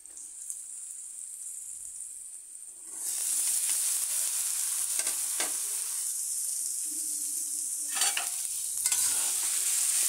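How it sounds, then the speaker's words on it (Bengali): Chopped potatoes and beans tipped into fried onions and ginger in a hot pan, the sizzle jumping louder partway through, then steady frying with intermittent scraping stirs close by and no speech. "এবার আমি এখানে যে আগে থেকে কেটে রেখেছি আলু শিম তা দিয়ে দিচ্ছি।"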